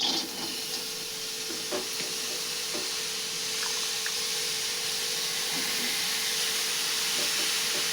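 Cluster beans (chawli) frying in a heated iron kadai: a continuous close hiss and sizzle with faint scraping and stirring touches, steady and alone throughout.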